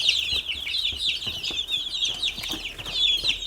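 Two-week-old broiler chicks on a Kenyan broiler farm peep and cluck continuously in a dense, close chorus, with occasional soft rustles and faint wing flutters, no talk.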